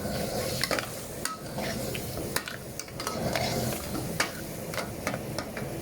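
Seafood with fresh green peppercorns and half a tablespoon of sugar being stir-fried in a hot pan, with a steady sizzle and irregular scraping and clinking of a utensil against the pan, close up and continuous, no talking.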